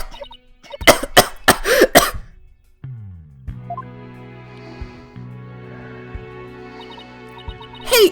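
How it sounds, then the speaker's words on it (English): A female character in the Ace Attorney: Dual Destinies video game breaks into a coughing fit of several sharp, close coughs, followed by a low rising game tone and a quiet sustained musical backdrop. "I always seem to go into coughing fits whenever I get nervous"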